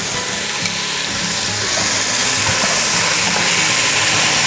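Onions, red pepper and finely cubed bacon fry in a pot for Texas chili, giving a loud, steady sizzle with occasional crackles and pops, with no talk over it.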